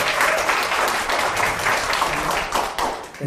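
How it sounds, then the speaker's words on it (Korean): Audience applause at a political event in Daejeon. Dense, steady clapping from a crowd fills the room for a few seconds. "여러분, 따뜻한 우리 대전 시민들의 마음을 다하고 박수 부탁드립니다."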